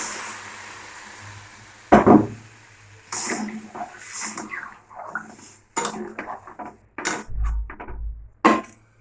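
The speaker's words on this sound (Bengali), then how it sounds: "এবার দিয়ে দেবো জল যতটা পরিমাণ লাগবে।" Water is poured into cooked masala in a pan for a fish curry, making a brief splash and sizzle followed by clinks of a utensil against the pan, with no talk.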